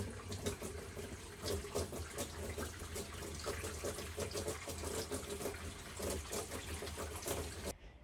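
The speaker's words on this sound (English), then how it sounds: "I am going to go ahead and add the water to it." Water pouring into a metal pressure canner on a porch, a steady splashing gush running for several seconds at moderate distance, then cutting off abruptly near the end, with no talk.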